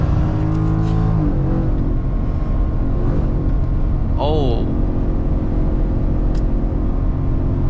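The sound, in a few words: Ford Raptor pickup truck engine revving and shifting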